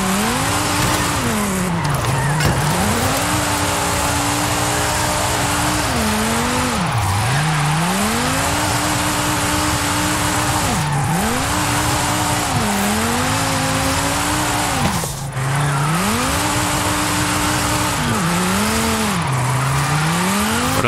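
A drift car in Forza Horizon 5 slides through repeated long drifts, its engine droning loud and close with pitch swooping up and down as tires squeal continuously, no voices over it.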